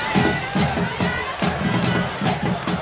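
A large crowd at a high school football game makes a steady, distant roar with rhythmic bursts of chanting or cheering, and a voice is faintly heard within it.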